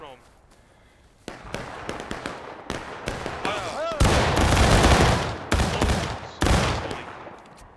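Company volleys of musket gunfire at a reenactment ring out as a series of sharp, loud cracks and rolling bursts, some overlapping into dense clusters, heard close with voices in the background.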